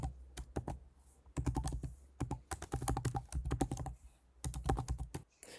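Quick bursts of keys clatter on a computer keyboard while an email address is typed, short clusters of clicks separated by brief pauses, close and fairly quiet, with no talk.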